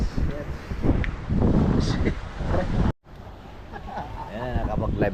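Gusty wind roars over a small boat on the water, a close, rumbling microphone buffet that runs under people talking, with a brief dropout midway.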